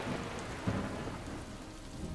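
Heavy rain pours down steadily in Valsad during a torrential downpour, a dense, low roar of water with a faint rumble beneath and no voices.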